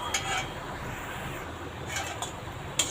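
A ladle clinks and scrapes against the pan as potato balls are turned over a very low flame, with a few distinct metallic taps over a soft background hiss.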